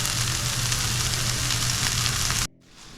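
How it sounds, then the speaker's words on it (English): Vegetables sauté in a hot pan with a loud, continuous sizzle and crackle that holds steady, then cuts off abruptly to near quiet for the final half second. "we're basically just going to saute these for anywhere from like 5 to 10 minutes or so until they're kind of soft"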